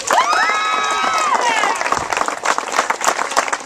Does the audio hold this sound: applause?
yes